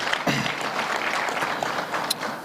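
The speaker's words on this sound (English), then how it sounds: "Let's give you another round of applause." Moderately loud audience applause at a trade and investment conference, a continuous wash of clapping with a few sharper claps standing out.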